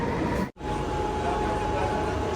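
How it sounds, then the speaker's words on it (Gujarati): A Mumbai local train pulls in, filling the scene with a loud, steady broadband rumble and rail noise that drops out sharply for a split second before resuming. "આ ગઈ સાલ લોકલ ગેટ ટ્રેન, લોકલની સવારી."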